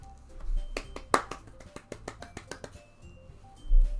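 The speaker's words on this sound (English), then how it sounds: "The four of us applaud." An applause sound effect from the visual novel Doki Doki Literature Club Plus gives a sparse scatter of sharp, light handclaps, with one stronger clap standing out among softer ones over a low hum.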